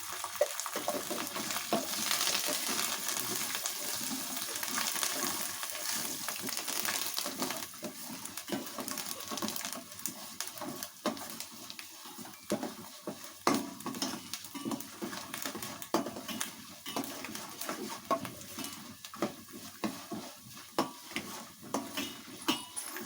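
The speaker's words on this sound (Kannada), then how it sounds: "ಇದು ಫ್ರೈ ಆಗಿದೆ, ಸಾಕು." Ingredients with curry leaves and turmeric frying in a pan for Melukote-style puliogare, with a continuous hissing sizzle and frequent close ladle scrapes and clicks throughout, moderately loud, with no talking.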